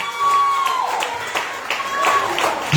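Church congregation applauding for the Lord, a steady wash of many hands clapping at moderate loudness with voices speaking and calling out over it.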